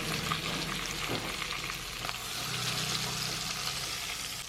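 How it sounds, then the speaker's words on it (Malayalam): Precooked chicken pieces shallow frying in a pan of hot oil give a loud, continuous close sizzle and crackle throughout, with no talking. "നമ്മുടെ ചിക്കൻ ഫ്രൈ ആയിട്ടുണ്ട്."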